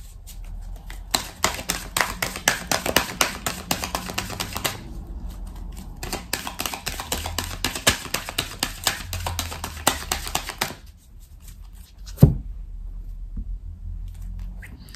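Steady, rapid papery riffling of tarot cards being shuffled for a reading, two long bursts separated by a short pause, then a single sharp tap and quiet.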